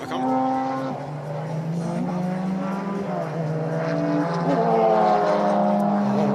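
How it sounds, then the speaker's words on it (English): Porsche Carrera 911 race cars at the Adelaide Motorsport Festival drone loudly on track, engine pitch rising and falling as cars pass and shift, one sustained roar layered over another. "right now, it's busy on track. We've got all kinds of Porsche Carrera 911s running around the place"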